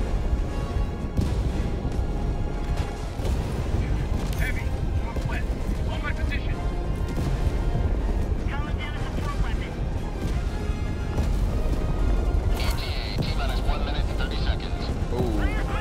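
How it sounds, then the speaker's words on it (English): Explosions and battle blasts in the Helldivers 2 video game, continuous rumbling booms and crashes under frequent voices talking over them. "You mean these explosions?"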